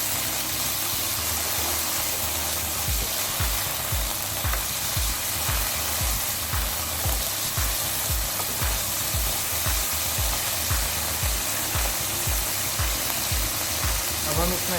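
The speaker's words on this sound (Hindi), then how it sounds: "हम हमारे क्यूब्स को डालते हैं। इस तरीके से आप फ्राई करिए इसे।" Cubes for a pizza topping fry in hot oil in a pan, giving a continuous loud sizzle with a rhythmic run of stirring scrapes and knocks over it.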